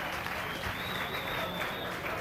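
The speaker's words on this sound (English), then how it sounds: "every one of these fighters deserves a rousing round of applause" Continuous applause from a large boxing arena crowd after the 1996 Tyson vs. Holyfield fight, dense and even throughout, with some cheering mixed in.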